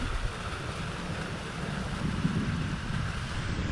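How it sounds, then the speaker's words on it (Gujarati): Strong wind blows across an open onion farm field, a steady, broad roar buffeting the microphone with no pauses and no talking. "આમ પવન એટલો છે આમ દેખાય તમને"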